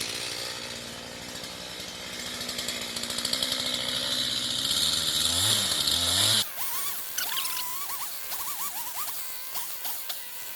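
A chainsaw cuts down a pin oak tree, its engine revving loud and close and then dropping sharply at the end of the cut, leaving a lower idle with wavering revs.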